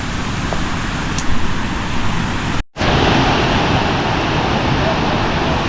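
A waterfall at Waghbil near Badlapur, in forest during the rainy season, gives a loud, continuous broadband roar close by, broken by a brief cut to silence partway through before it resumes just as strong.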